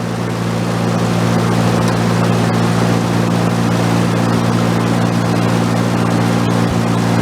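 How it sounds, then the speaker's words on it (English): Engine driving a portable generator under test, a loud steady mechanical hum with strong low tones and broad noise, holding nearly constant throughout. "as I increase the RPM on the engine"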